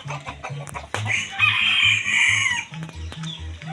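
Several chickens clucking in steady, repeated low bursts close by, with a rooster's crow rising loud in the middle and one brief sharp call near the start.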